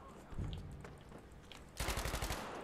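A quiet distant shot, then a louder rapid burst of gunfire in a Battlefield 5 Breakthrough match, layered over background battle noise.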